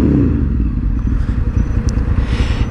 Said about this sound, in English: Oh, a little tunnel rev.